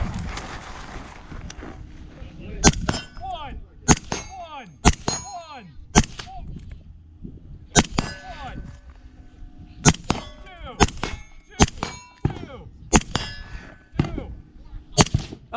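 Rifle shots ring off a steel bonus target at an outdoor retro rifle match, sharp cracks each followed by a metallic clang, fired in quick irregular strings, loud and close over light wind.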